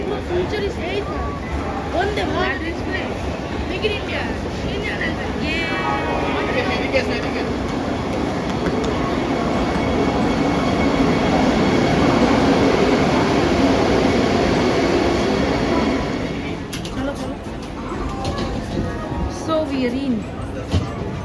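Steady rumbling of a moving Howrah–Puri Vande Bharat express train heard from inside, with a constant whooshing roar that swells in the middle and murmuring voices underneath.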